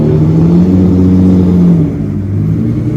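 A 2001 Lamborghini Diablo VT with a manual gearbox revs in an exhibition hall at a Riyadh car show, its loud, deep engine roar holding then dropping back to a rumbling idle.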